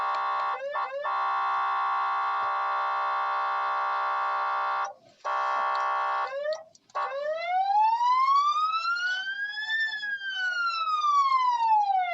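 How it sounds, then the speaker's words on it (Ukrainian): A loud electronic siren holds a steady blaring tone with brief breaks, then switches to a slow wailing rise and fall, heard alone. "ми змогли почути звук сирени"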